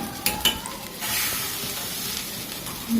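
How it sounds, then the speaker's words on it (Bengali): Fried rice stirred into hot water in a pot for khichuri, with a couple of sharp scrapes at the start and then a soft continuous bubbling hiss at low level. "গরম জলের ভিতরে চালগুলো ছেড়ে একটু নাড়াচাড়া করতে হবে।"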